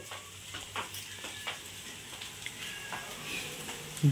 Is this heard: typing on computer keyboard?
no